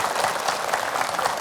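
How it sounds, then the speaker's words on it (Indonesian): Dense audience applause fills a religious lecture hall, a crowd clapping together loudly and continuously with no pauses and no talking over it. "Tepuk tangan lagi deh biar seru."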